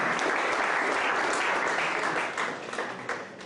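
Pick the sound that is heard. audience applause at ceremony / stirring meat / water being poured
audience applause at ceremony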